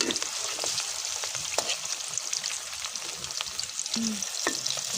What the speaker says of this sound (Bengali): এখন ভেজে নিব। এই যে কড়াইয়ে তেল ঢেলে দিলাম, এই যে মাছ দিয়ে দিলাম